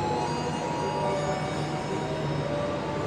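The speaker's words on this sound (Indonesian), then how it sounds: "Kereta menorehnya dilansir masuk jalur 3 ya." Menoreh New Generation passenger train being shunted into track 3 at a station, a steady rumbling drone of the rolling train with faint squealing tones, continuous and moderately distant.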